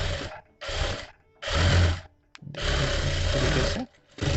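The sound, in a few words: sewing machine stitching a blouse sleeve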